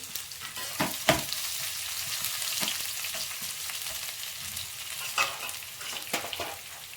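Mashed garlic frying in a pan, giving a steady close sizzle with occasional sharper scrapes and stirs of a spoon, and no voices.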